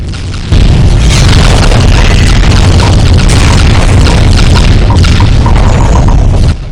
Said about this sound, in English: Time to test the tsunami bomb.